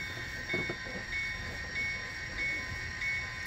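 An Athearn Genesis GP50 model locomotive runs steadily over a track switch, giving a soft continuous rolling hum with faint clicks and a few brief tonal whines, close and fairly quiet with no talking.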